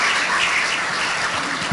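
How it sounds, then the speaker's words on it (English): Applause from a conference audience at a Ghana e-visa launch, a steady wash of clapping for under two seconds, fairly loud and without speech. "Let's give Mr. Francis a round of applause."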